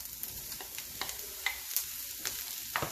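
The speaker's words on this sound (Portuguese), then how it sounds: "Eu vou pôr a batata." Potatoes being stirred into lightly sautéed onions frying in a pan, with a soft continuous sizzle broken by faint, irregular scraping taps of a utensil.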